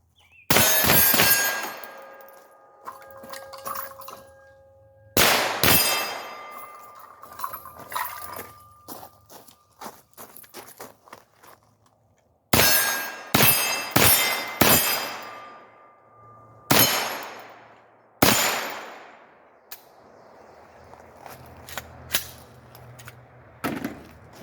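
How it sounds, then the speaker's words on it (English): A 9mm AR rifle fires at steel targets about 45 feet away, with sharp shots followed by bright metallic clangs and ringing, spaced out singly and in quick bursts over a quiet outdoor range. "I love shooting 9mm ARs because I can shoot those targets at whatever this is"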